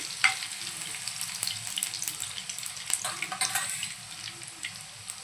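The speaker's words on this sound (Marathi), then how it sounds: "कढीपत्ता घालूया, थोडंसं परतवून घेऊया, म्हणजे फ्लेवर छान येईल।" Curry leaves with crushed garlic sautéing in hot oil for a Malvani-style elephant foot yam fry, heard as a fairly quiet crackling sizzle with scattered sharp pops and spatters, no voices.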